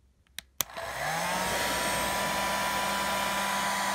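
Two sharp clicks from the switch come first, then a hair dryer on its low heat setting starts up and runs as a steady, close, even whir with a faint tonal hum.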